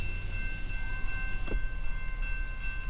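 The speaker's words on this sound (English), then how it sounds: "there's a train coming." A CN eastbound mixed freight train led by locomotive CN 2641 rumbles past a grade crossing in Port Huron, Michigan, a continuous low heavy roll with steady tonal ringing above it, heard from inside a stopped car.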